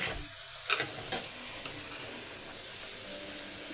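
Moringa greens and lentils fry in a pan with a steady low sizzle and a few soft stirring clicks, close and alone with no talking.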